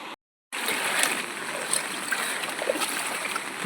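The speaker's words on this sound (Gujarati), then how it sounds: "આખા ખેતરમાં નદીનું પાણી ફરી વળ્યું જાણે દરિયો હાલે તેવો નજારો જોવા મળે છે" River floodwater in Gir Gadhada taluka, Gujarat, spreads across a farm field, giving a steady, broad rushing wash of flowing water that starts after a brief dropout and then continues without break.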